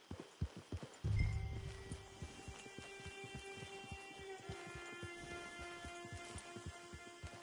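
Horse hooves clip-clop in a steady walking rhythm on a hard surface, close and fairly quiet, with a soft game-music hum beneath.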